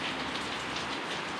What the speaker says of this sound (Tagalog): Yan, humihina, kumakalma yung ulan.